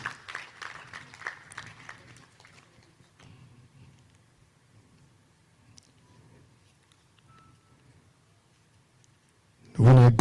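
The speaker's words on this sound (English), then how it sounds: "let's give her a round of applause" An audience at a dairy nutrition and investment conference gives a short burst of scattered clapping that thins out within a few seconds, leaving a quiet hall.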